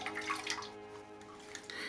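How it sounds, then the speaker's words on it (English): Running water rushes over an aquarium filter cartridge being rinsed under a tap, a steady close splashing flow with slight fluctuations and no voices. "I'll rinse it out"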